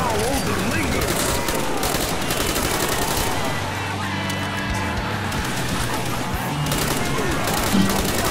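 Rapid automatic gunfire in a zombie video game rattles steadily and densely through the whole stretch, loud and close, with players' voices talking over the shooting.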